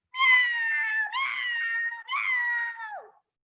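Children's voices imitate a cat with three drawn-out, wavering meows in a row, loud and close, the last one sliding downward at the end.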